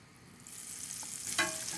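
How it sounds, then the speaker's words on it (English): Raw fingerling potatoes fry in olive oil and butter in a pan, with a soft, brief sizzle that swells slightly toward the end, heard close and alone. "cook the potatoes, since these are raw potatoes. A little bit of olive oil, and I'm gonna put a little bit of butter in for taste."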